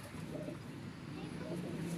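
A female Teddy pigeon coos softly in a low, repeated rhythm, faint and close, while someone talks over it.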